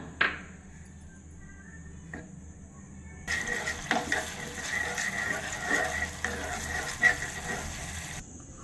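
Spice paste frying in oil in a kadai, stirred with scraping strokes; after a quiet start with a couple of light knocks, a steady sizzle rises with repeated clanks and scrapes of the spoon against the pan, close and moderately loud.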